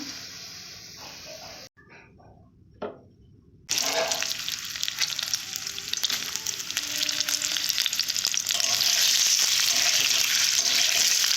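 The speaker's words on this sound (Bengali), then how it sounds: "পেরেস্তাগুলোকে ভালো করে লাল লাল করে ভেজে নিয়েছি" Pistachios fry in a pan with a soft crackle at first, then a short pause broken by a tap. After that a loud, dense, continuous sizzle sets in and carries on steadily to the end.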